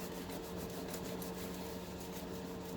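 Towel rubbing dirt off the chassis of a Leslie 122 amplifier, a steady close scrubbing rasp that runs without a break over a faint constant electrical hum.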